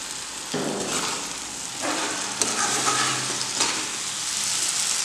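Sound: water added to drumstick curry simmering in a hot pan

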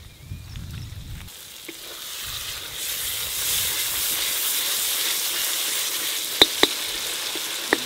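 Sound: tomatoes added to sizzling pan for fish head curry

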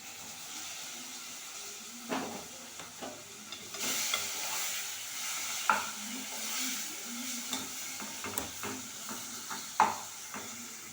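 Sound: tomatoes added to a pan, sizzling and stirred

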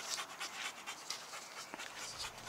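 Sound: dog panting

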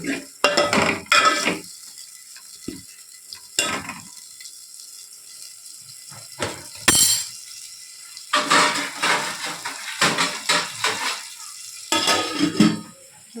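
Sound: stirring red lentils with tomatoes in a pot

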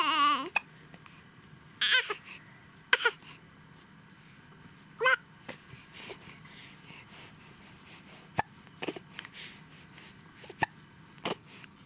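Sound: baby hiccups and fussing

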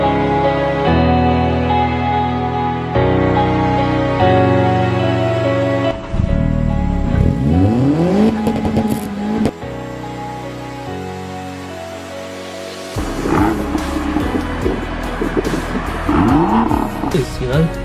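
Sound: Nissan Micra car driving and revving

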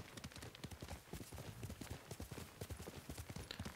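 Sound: horse hooves clip-clop, from a video game

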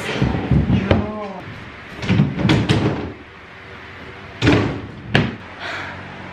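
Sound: drawer closing on newly assembled IKEA furniture

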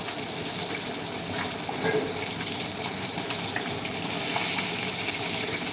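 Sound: oil added to a hot pan, sizzling

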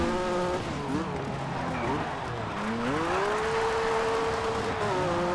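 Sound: rally car driving in video game Colin McRae Dirt 2

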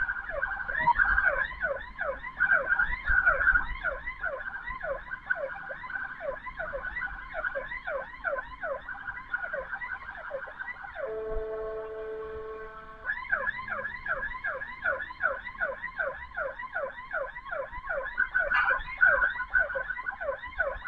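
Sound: PMI ambulance siren passing

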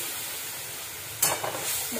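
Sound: spices frying in hot oil in a wok

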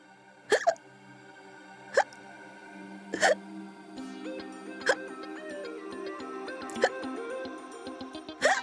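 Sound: hiccups

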